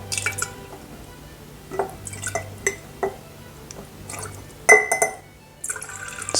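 Vinegar is spooned into several glass jars for natural Easter egg dyeing, giving short splashy pours and drips with clinks of glass, repeated in separate bursts.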